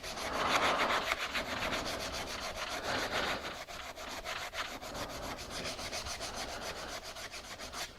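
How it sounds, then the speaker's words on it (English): A belt sander working a thin piece of wood in a woodworking shop, a steady loud abrasive rubbing hum that runs without a break for several seconds, with no talking. "Belt sander, I can sand it."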